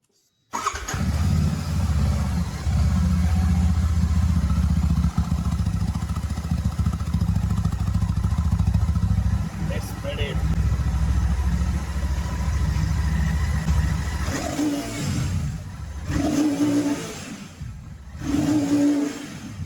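A Royal Enfield Classic 650 engine idles loud and close with a deep, steady exhaust rumble, then blips the throttle a few times near the end.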